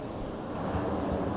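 A continuous broadband rush of sea surf washing in on a beach at Devgad, with wind buffeting the microphone.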